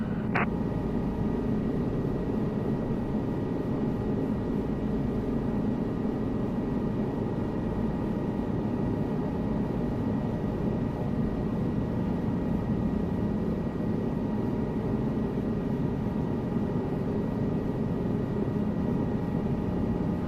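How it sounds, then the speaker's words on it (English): A helicopter in Microsoft Flight Simulator 2024 creeps forward at walking pace over a heli parking spot. Its engine and rotor make a steady, unbroken broadband drone throughout. "Slowly ease the cyclic forward to get our helicopter moving."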